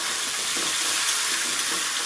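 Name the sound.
chopped onion frying in oil with whole spices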